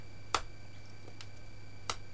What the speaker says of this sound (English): Oh, I can't snap my fingers, sorry.